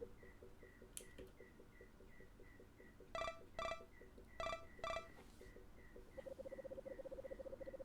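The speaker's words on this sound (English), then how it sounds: "I wake to the noise of my phone ringing." An electronic phone rings in the video game Anodyne 2, four short loud bursts standing out over a quiet looping background of rhythmic synth chirps and beeps, with no talking.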